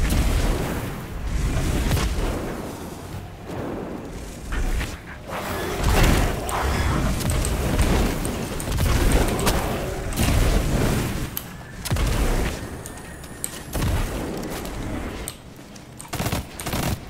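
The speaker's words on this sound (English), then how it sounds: "Don't forget to chuck your nades" Grenade blasts and gunfire in a live-streamed shooter game, with repeated booming explosions and bursts of rapid fire spread across the clip, loud and dense with no talk.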